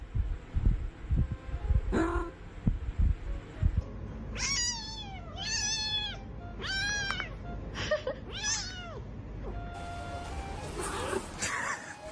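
A cat meows nearby in a run of several drawn-out, wavering cries after some low thumping and bumps. A brief electronic hum follows.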